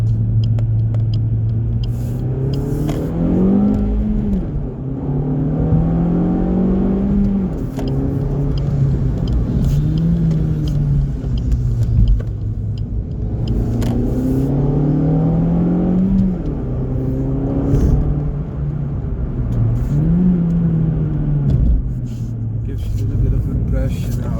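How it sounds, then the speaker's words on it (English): A Suzuki Swift Sport Hybrid hatchback with a K14D engine and aftermarket exhaust revs up and drops repeatedly, rising pitch sweeps with upshifts between them, a steady rumble throughout with a voice talking over it. "I'll wait for this corner, then I will rev it out and go to second."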